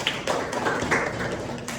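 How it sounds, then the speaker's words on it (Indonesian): Classroom students in a microteaching lesson clap for their classmates, giving quick, irregular, fairly close hand claps in a short burst that fills the room. "beri tepuk tangan untuk teman-teman"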